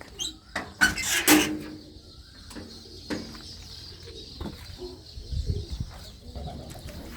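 Pigeons coo softly at a coop, with scattered calls and a few brief flutters and thumps nearby over a quiet background.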